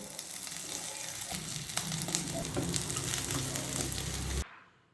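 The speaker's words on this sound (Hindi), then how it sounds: "अब इन्हें हम थोड़ा सा सौते कर लेते हैं और साथ ही इसमें हम ग्रीन चिली ऐड कर लेंगे।" Chopped ginger and green chillies sauté in oil in a pan, a steady close sizzle and crackle running for several seconds before cutting off abruptly near the end.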